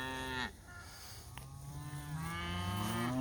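A cow on a farm with pregnant cattle lows in long, drawn-out moos that rise and fall, fairly close but soft, with a second moo swelling toward the end.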